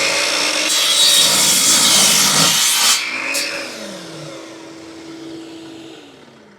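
A chop saw cuts through a pair of pieces clamped together for a wood and extruded aluminum camp kitchen. A loud, close, harsh cut lasts about three seconds, then the blade whines down and fades.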